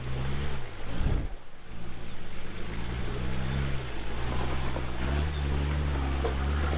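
4x4 vehicle engine droning and revving as it climbs a rock step on a rocky bush track, a loud continuous low rumble with wind buffeting throughout and a throttle surge partway through.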